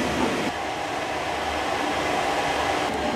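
Interior rumble of a moving train in Devon, England, a steady loud roar of wheels and carriage noise with a faint rhythmic clatter, continuous and close, with no talking.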